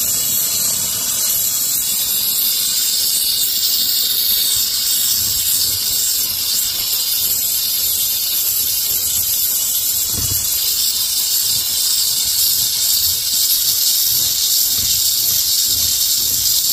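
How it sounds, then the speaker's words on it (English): Steady, loud hiss of a Harbor Freight steam cleaner blasting plain water continuously onto a floor mat, with faint scrubbing and low thumps underneath throughout. "we're going to try to steam clean this mat"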